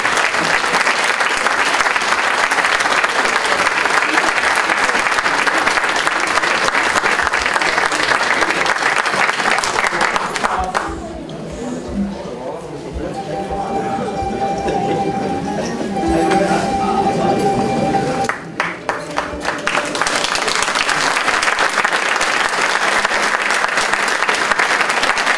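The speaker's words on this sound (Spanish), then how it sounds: "Fuerte el aplauso para ellos." Loud audience applause at an elderly romería presentation event, continuous dense clapping that drops away midway to quieter room sounds with a low tone, then swells back to full applause.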